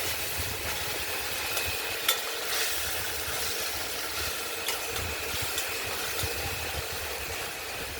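Spiced potato and paneer curry masala stir-fries in a pan with a continuous soft sizzle, broken by occasional light scrapes and clinks of the stirring spoon, no voices.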